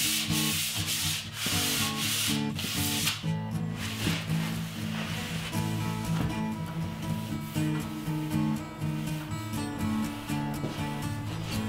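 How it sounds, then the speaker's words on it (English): Sandpaper of 320 grit rubs over a black walnut cabinet in steady back-and-forth strokes, a continuous close scratchy hiss with faint background music and no talking. "So I'll sand the cabinet with 320 sandpaper, remove any of the dust as the finish powders up"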